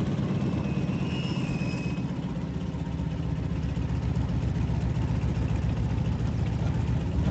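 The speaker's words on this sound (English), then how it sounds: "When lined up and ready, slowly add full throttle." A Stearman biplane engine in a flight simulator game runs steadily and loudly with a dense low drone, holding level throughout with no talk.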